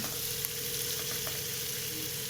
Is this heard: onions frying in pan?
yes